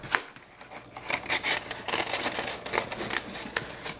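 Scissors snip through a paper stencil sheet in a series of close, crisp cuts at an irregular rhythm, each short crunchy burst following the last with no talking.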